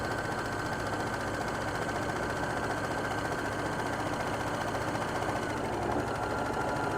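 Serger sewing a side seam of a garment, a fast continuous mechanical whirring chatter running steadily throughout, close and even in level, no talking.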